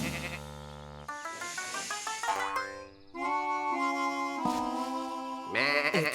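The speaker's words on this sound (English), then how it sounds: "It's a sheep." Cartoon sheep on a farm bleating in a bouncy, wavering voice over a busy musical score, with sound effects and sustained tones running the whole way through.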